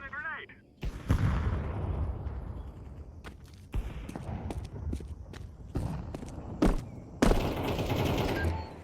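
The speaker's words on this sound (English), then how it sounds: "Throwing a grenade." A grenade is thrown and explodes in the video game Counter-Strike 2. Sharp gunshots, footsteps and a loud burst near the end are mixed with a voice talking over the action.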